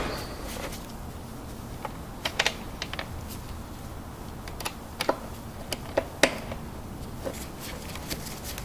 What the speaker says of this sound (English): make sure that they engage in the other piece of plastic. So you can kind of hear it snap